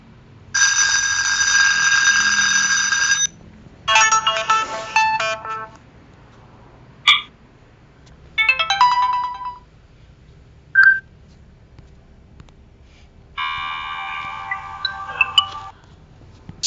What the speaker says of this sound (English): Record some clips of clicking or beeping.